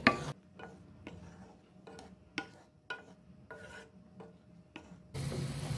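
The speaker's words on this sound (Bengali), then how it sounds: "এবার নেড়ে চেড়ে মিশিয়ে নিচ্ছি।" Pumpkin payesh being stirred with a spoon in a pot after the sugar goes in, a series of short scraping rasps at a steady, unhurried pace, close and fairly quiet. A louder, steady hiss takes over at the end.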